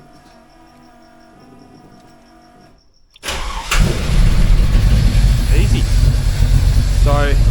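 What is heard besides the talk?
Holden Torana engine starting and idling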